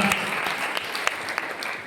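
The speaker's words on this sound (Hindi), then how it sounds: "इस तरह से खुशी के लिए जोरदार तालियां" A quiz show audience claps hard for a contestant, a brief burst of dense applause at steady volume with a few sharper claps standing out.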